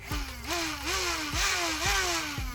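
Venom Pro DartZone foam blaster flywheels spin up again and again from a rear rev trigger, each rise followed by a dip in a regular whirring cycle, close and fairly quiet with no talk.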